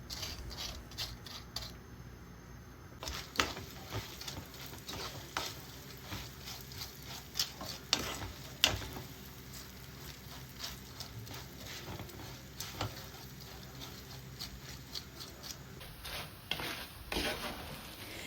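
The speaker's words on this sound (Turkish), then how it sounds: "Tahta kaşık yardımıyla erişte makarnamızı kırmadan yavaş yavaş karıştırarak rengi dönene kadar kavuralım." Erişte noodles roasting in a pan, stirred slowly with a wooden spoon, giving quiet, irregular dry scraping and clicking as the pieces shift, soft and close with no talking.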